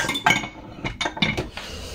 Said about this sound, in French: Il y en a de la vaisselle, parce que dedans il y a ma tasse.